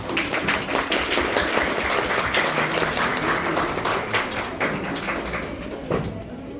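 Physiology students in a classroom clap for a presenting group, a loud, busy patter of many hands close by that continues for several seconds before thinning out at the end, with a few voices underneath.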